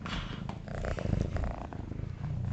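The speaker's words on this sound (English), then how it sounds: "give everybody your loud purr" A cat purrs loudly right against the microphone, a close, rough rumble with a rhythmic pulsing that continues without pause and with no talking over it.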